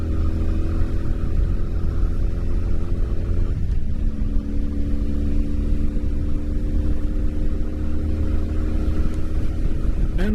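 A carbureted 1984 Honda Magna VF700C motorcycle engine runs loud and close with a steady droning rumble; its pitch dips briefly partway through, then settles into an even hum.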